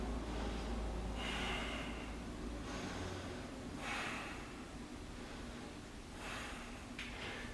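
Deep breaths drawn in and pushed out during a yoga backbend stretch, several slow airy inhales and exhales, close and soft over steady low background hum.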